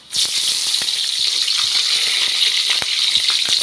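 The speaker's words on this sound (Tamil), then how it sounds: "எண்ணெய் எல்லாம் சூடாகிடுச்சு பட்டை வகையெல்லாம் சேர்த்துக்கலாம்" Cinnamon and whole spices hit hot oil in a pan with a steady, bright sizzle that starts abruptly and stays loud and close, speckled with small pops and crackles.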